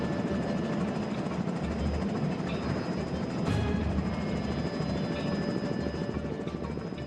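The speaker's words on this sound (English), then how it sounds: "We get helicopter airlifting." Helicopter hovering during a sea rescue training exercise for astronauts, a loud, steady rotor and engine roar that holds unbroken throughout with no talking.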